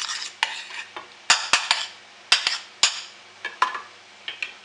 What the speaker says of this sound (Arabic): نحرك.